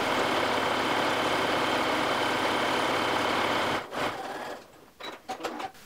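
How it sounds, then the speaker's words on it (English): A sewing machine stitches across a clear vinyl tote bag with a loud, continuous rapid whir close by, then stops and is followed by a few short bursts and clicks. "I'll just stitch across the bottom and back down the other side."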